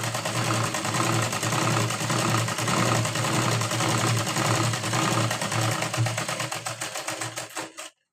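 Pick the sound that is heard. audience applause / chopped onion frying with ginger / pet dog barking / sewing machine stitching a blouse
sewing machine stitching a blouse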